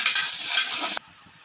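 Chopped tomatoes dropped into onions frying in a cooker for chicken gravy, with whole spices in the oil; a loud, steady sizzle with stirring fills the first second, then drops to a quieter, softer fry.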